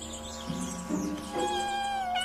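Cartoon kittens meowing in fright, high thin mewing calls rising and falling over a soft musical background, with no speech.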